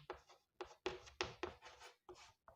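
Pen writing on paper by hand during a chemistry lesson, close and quiet, with a run of short scratchy strokes separated by brief pauses.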